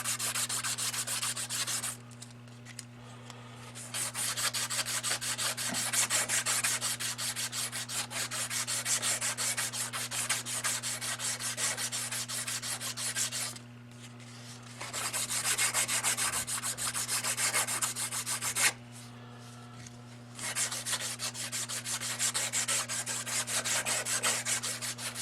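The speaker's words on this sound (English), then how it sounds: "I've got some 400 grit emery cloth. And I'm just going to run over that." A revolver rammer from a Pietta 1861 Navy, clamped in a padded vice, rubbed with 400 grit emery cloth: continuous close scratchy strokes in long stretches broken by a few short pauses, over a steady low hum.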